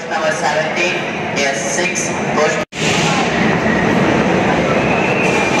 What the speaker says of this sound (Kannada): ಹಾರನ್ ಕೊಟ್ಟರು, ಟ್ರೈನ್ ಮೂವ್ ಆಗ್ತಾ ಇದೆ.